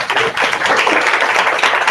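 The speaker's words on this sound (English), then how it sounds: "So give yourselves a big round of applause." An audience in a hall claps together in a dense, steady burst of applause that continues for the full two seconds.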